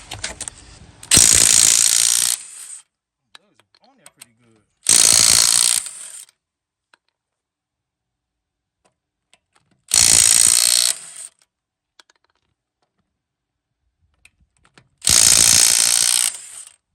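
An impact wrench zips 19mm lug nuts off a Chevy Malibu wheel outdoors in four loud, separate bursts of roughly a second each, with brief silences between them.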